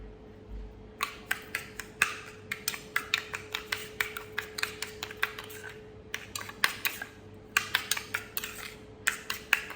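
A spoon stirs papaya paste and sugar in a bowl, making a fast run of light clinks and taps in quick bursts with short pauses, close and fairly quiet.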